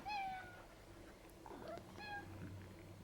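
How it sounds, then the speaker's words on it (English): A house cat meows several times at home in the morning, short rising calls spaced apart, fairly close and clear against quiet room noise. "I get meowed at all morning."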